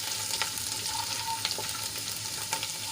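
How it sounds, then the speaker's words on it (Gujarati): Crushed garlic cloves, four or five, sizzle steadily in hot oil in a pan, a continuous close frying hiss with a few faint stirring scrapes and no talking. "ચારથી પાંચ કળી મેં લસણની કટકી કરી લીધી છે એ આપણે એડ કરી લઈશું અને લાલ થાય ત્યાં સુધી આપણે એને સાંતળી લઈશું"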